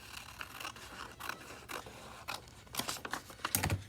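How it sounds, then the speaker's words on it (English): Scissors snip up a fold line through paper folded into four squares for a paper dollhouse craft, a series of short crisp cuts building to denser, louder snipping near the end, close and alone. "we're gonna cut right up this line on one of the folds"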